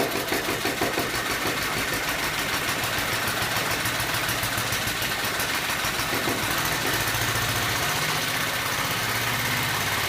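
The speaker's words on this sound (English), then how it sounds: "So the motor is running on its own now." A glass engine runs on its own after its starter motor is disengaged, giving a continuous rapid mechanical chatter and hum with a fast, even pulsing rhythm, close and steady without talking.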